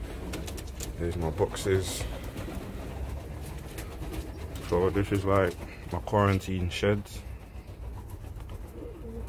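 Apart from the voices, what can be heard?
Kittel pigeons cooing in a quarantine shed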